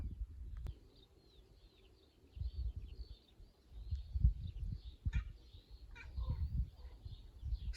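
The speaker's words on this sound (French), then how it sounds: "il y a un oiseau là-haut que j'ai jamais entendu. Je sais pas si vous allez le voir." A bird calling high overhead in the countryside, faint repeated chirping notes scattered through the clip over low rumbling handling noise and soft thuds nearby.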